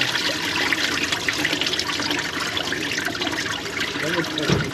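Coolant gushes and splashes steadily out of a Honda engine as it drains, a dense close pouring rush, with someone speaking briefly.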